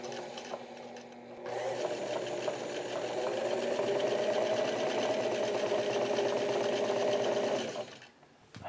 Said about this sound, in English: Let me stitch this band together.